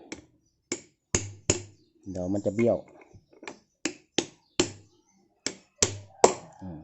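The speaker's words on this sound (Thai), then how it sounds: "ก็เคาะประคองก่อนนะครับ" Sharp metallic taps of a socket driving a motorcycle front fork seal into place, several evenly spaced knocks, close and clear, with someone speaking briefly between them.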